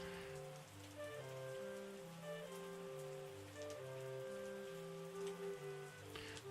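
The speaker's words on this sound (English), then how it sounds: "It's still raining." Rain falls steadily in the farming and winemaking video game Terroir, a soft continuous patter beneath gentle melodic background music, with no talking.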